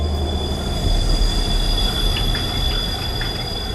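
Train arriving in the horror VR game Here They Lie, loud close rumble of rail wheels with a sustained high metallic squeal and a few faint clacks over the top, no speech.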